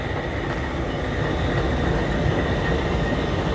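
A CSX diesel locomotive idles with a tied-down spray train, a steady low rumbling drone with constant mechanical hum, close and unchanging throughout.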